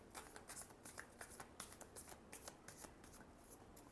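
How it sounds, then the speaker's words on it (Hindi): A deck of tarot cards is shuffled up close in a run of quick, crisp riffling bursts with soft paper flutters between them. The sound is quiet and intimate, and nobody speaks. "लिब्रा के लिए लास्ट शफल।"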